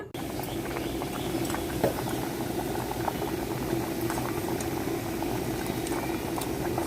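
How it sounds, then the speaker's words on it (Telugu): Lentils boiling in a pot on a stove with onion and green chilli, a steady close bubbling and gurgling that carries on evenly throughout without voices. "ఉల్లిపాయ పచ్చిమిర్చి వేసాను ఇది ఉడకాలి"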